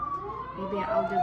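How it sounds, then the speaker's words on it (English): A siren wails in the background with a slow rising pitch while a person speaks briefly over it. "I apologize about the siren."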